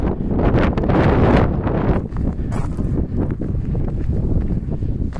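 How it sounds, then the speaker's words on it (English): Strong wind buffets the microphone on an exposed desert mountain peak near Las Vegas during a windstorm, roaring loudly in uneven gusts with rustling over the top and no voices. "Definitely pretty windy out there in the open desert area."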